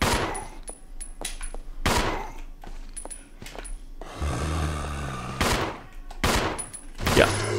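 Gunfire in the video game Resident Evil Zero: loud bursts of rapid shots in several separate volleys, with short pauses and a rumbling thud between them.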